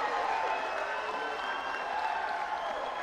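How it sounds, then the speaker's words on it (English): Spectators at a youth climbing championship speed qualification applaud and cheer a record run. Dense, steady clapping and crowd noise rolls on without a break, with a commentator faint underneath. "The crowd are loving that one."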